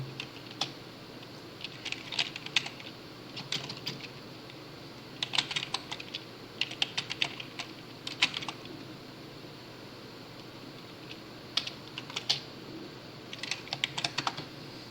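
Computer keyboard typing at a desk while entering Python code, coming in irregular bursts of quick, close clicks separated by short pauses against a faint steady hum, with no speech.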